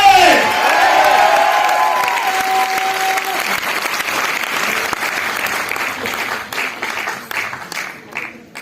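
An audience at a Success Training seminar led by Mr. Manoj Malik bursts into loud, dense applause with cheers and whoops, then thins into scattered, uneven claps toward the end.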